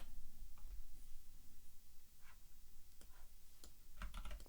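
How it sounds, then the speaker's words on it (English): Keys clack on a computer keyboard in short irregular bursts of taps, fairly faint and close, over a quiet background hum with no talking. "Unless I'm typing it wrong, which is certainly a possibility."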